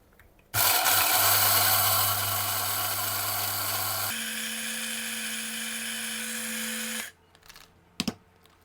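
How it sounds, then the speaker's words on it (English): A small electric spice grinder whirs loudly and steadily while grinding a German bread spice mix of whole seeds, running for about six seconds with a shift in pitch partway through, then stopping, followed by a couple of clicks. "that batch fits in a small spice grinder"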